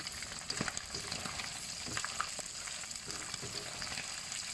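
Shrimp fry in hot oil in a pan, a soft steady sizzle with small crackles and pops scattered throughout, fairly quiet and with no talking.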